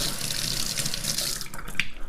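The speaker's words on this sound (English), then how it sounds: "we want to just wash these, nice warm water" Warm water runs steadily from a faucet over small rings of a vacuum erection device being rinsed in a sink, a close, continuous splashing rush.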